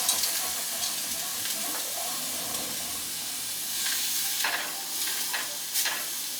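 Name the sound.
food simmering and sizzling in a pan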